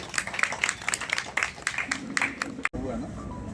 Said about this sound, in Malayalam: ഒരു കൈയടി ജീവനോടെ കൊടുക്കണല്ലേ